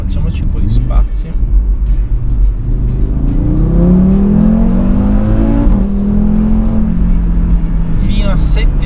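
A 460hp Audi RS3 tuned by ABT revs hard and accelerates, its engine note climbing through the gears in loud rising sweeps up toward 7000 rpm, with someone talking over it.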